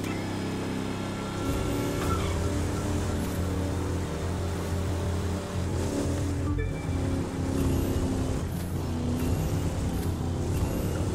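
A big American muscle car engine in The Crew 2 racing game, a steady deep rumbling drone at constant revs with a low harmonic hum, carrying on loudly and evenly throughout with wind-like wash on top.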